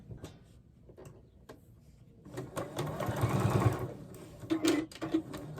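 A sewing machine stitches a 5/8-inch fabric seam on a basket organizer, opening with a few soft isolated ticks before settling into a quiet, steady whirring run of stitching with small clicks near the end.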